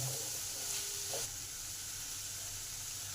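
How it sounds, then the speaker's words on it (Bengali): Vegetables and stale roti fry in a hot pan with a steady, close sizzle and hiss throughout, with no talking. "এবার এই সমস্ত কিছুকে ভালো করে ভেজে নেব।"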